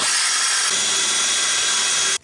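A loud, steady grinding whir as a Drill Doctor sharpener grinds a drill bit outdoors on a driveway, running continuously and then cutting off abruptly.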